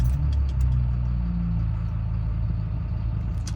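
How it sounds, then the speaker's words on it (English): A car engine runs at a steady idle, a continuous low mechanical hum with a slight clatter, close and moderately loud, with a few faint ticks over it. "And now I can actually turn on my car."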